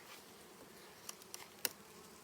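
Carpathian honey bees of the Prikarpattian type buzz faintly at the hive, a soft, steady hum broken by a few sharp clicks near the end.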